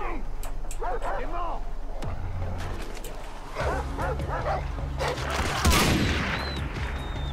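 A dog barks and yips amid bursts of gunfire in the video game Far Cry 3, with shots scattered throughout and a louder burst near the end, all under steady talk.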